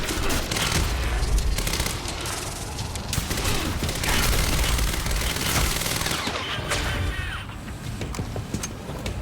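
Sustained rapid fire from an advanced SMG in the Quantum Break video game, dense automatic bursts with booms and impacts running almost continuously, tapering slightly near the end.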